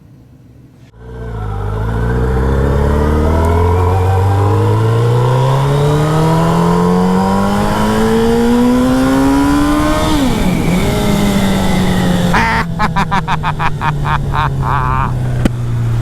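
A first-generation Suzuki Hayabusa motorcycle engine, its misfire now fixed, revs hard in first gear past 8,000 RPM. The loud, close, steadily rising wail falls briefly and then climbs again, and a rattling buzz joins near the end.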